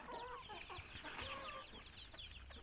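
Chickens eating corn keep up soft clucking and chattering in a steady low murmur that sounds fairly distant and quiet, with no talking.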